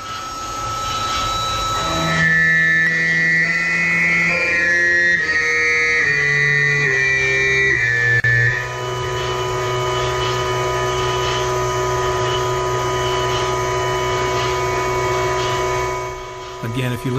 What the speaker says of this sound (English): you will hear a spindle speed change as the tool moves off the part